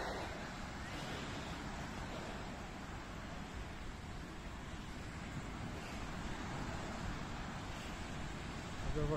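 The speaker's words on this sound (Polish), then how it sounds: "Dobra, trochę powiewa." Steady wind buffets the microphone at the seaside in Sopot, with a broad continuous roar, likely surf mixed in, constant and fairly loud throughout with no voices.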